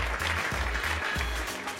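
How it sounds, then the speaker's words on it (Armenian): A studio audience applauds for a television show's scriptwriter, a brief burst of dense, even clapping heard up close. "Ծափահարեք մեր հաղորդման սցենարիստ Թելման Առաքելյան"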